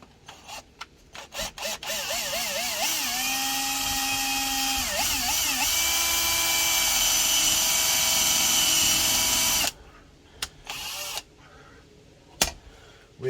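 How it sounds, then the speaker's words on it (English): A power drill pre-drills screw holes during the electrical fit-out of an Iveco Daily van conversion, whining up in pitch and holding a long steady run for several seconds, with short bursts before and after. The drill is close and loud. "We are going to pre-drill them"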